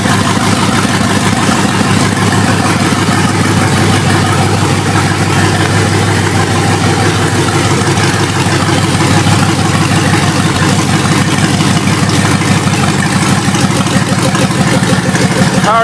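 A Power Wagon truck fitted with a Hellcat engine idles down, making a loud, steady, close low rumble with a regular pulsing beat that holds evenly for the full length, with no speech.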